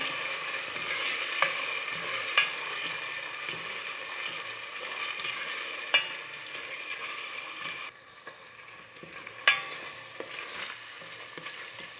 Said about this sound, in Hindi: अदरक और लहसुन भी डाल रही हूँ। मसाले को थोड़ी देर भूनना है।